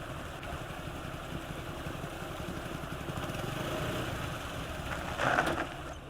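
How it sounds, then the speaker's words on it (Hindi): A motorcycle engine idles with a low steady rumble at moderate distance, rising slightly in level before a brief louder burst near the end. "बाइक क्यों रोक दी भैया?"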